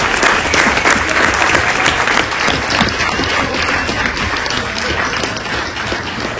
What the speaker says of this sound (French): Applaudissez-les, c'est grâce à eux qu'on est là.